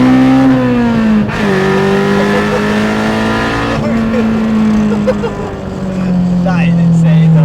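A Honda Civic Type R engine swapped into a lightweight 700 kg Citroen AX screams at high revs, its loud sustained tone climbing and dropping through gear changes as the car accelerates hard, heard close from inside.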